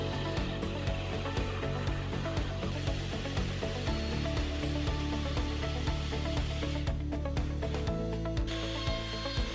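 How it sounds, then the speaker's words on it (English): A jigsaw cuts straight edges in workbench wood with a rapid, buzzing reciprocating rasp that keeps an even rhythm, heard up close and alone, with a brief change in tone near the end of the cut. "Then I grabbed my jigsaw to cut the straight edges."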